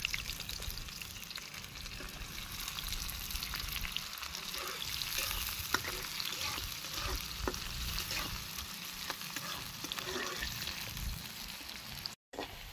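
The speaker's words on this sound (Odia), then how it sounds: "ପିଆଜ ସିଝି ଆସିଲା ଗୋଲ୍ଡେନ୍ କଲର୍ ହେଇ ଆସିଲା" Onions sizzle and fry in a pan with cumin seeds, a continuous crackling hiss with scattered pops and occasional stirring scrapes, close and steady, with a brief dropout near the end.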